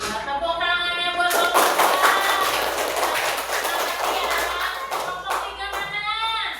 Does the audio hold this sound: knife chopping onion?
no